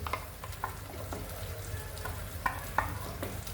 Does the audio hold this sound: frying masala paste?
yes